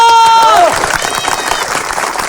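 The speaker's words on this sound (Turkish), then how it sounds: "Alkışlarınızla bravo!" Crowd applause at a wedding celebration follows a loud amplified voice with a ringing tone, the clapping continuing as a rough, moderately loud wash.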